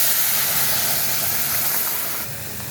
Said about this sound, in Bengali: এখন আমি ডালটা এই তেলের মধ্যে দেবো।